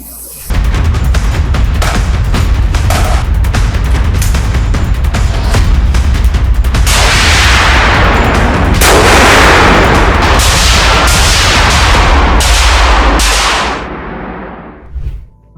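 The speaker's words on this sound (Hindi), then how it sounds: "अब हम आपको ले चलते हैं फायरिंग रेंज. आपने देख लिया कि हथियार बनते कैसे हैं, अब देखते हैं चलते कैसे हैं." Weapons are test-fired at a firing range at an Indian defence manufacturer, producing loud, rapid bursts of gunfire that run back to back for about fourteen seconds before stopping.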